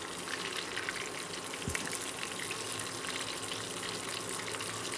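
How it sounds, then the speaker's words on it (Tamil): Prawns deep-frying in hot oil for a Chinese-style prawn fry: a steady, even, rushing sizzle that holds close and constant throughout, with one soft low knock partway through. "எண்ணெய் சவுண்டெல்லாம் பாருங்கள் குறைஞ்சிடுச்சு"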